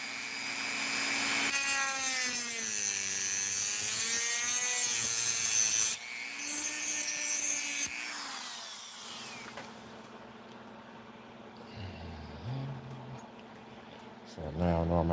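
A piece for a diecast diorama is cut with a loud, steady, whining grind lasting several seconds, then a short renewed burst before the sound drops to quieter scraping and rubbing.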